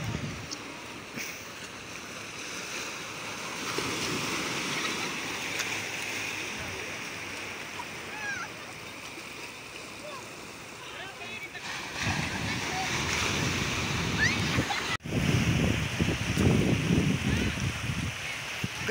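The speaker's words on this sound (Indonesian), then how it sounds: "ombak pasang di pagi hari ya" Morning high-tide sea waves wash onto a rocky beach in Banten, making a continuous rushing surf that swells louder in the later part, with faint voices now and then.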